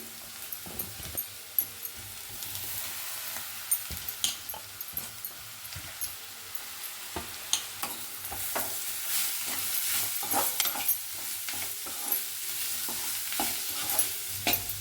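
Potatoes being stir-fried in a pan for dosa palya: an irregular run of scraping spatula strokes and clatters over a constant sizzle, close and fairly loud, with no one speaking.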